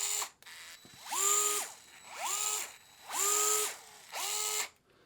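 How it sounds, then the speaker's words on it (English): DeWalt 8-volt Gyro Max power driver spinning in four separate bursts, each a whining motor pitch that ramps up, holds and drops off, close and clear with short gaps between. "Power driver, I use this DeWalt 8-volt Gyro Max"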